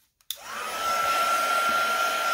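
After a moment of near silence, a hair dryer switches on and blows steadily to dry paint on a junk journal, a loud, close, continuous whine with no voices.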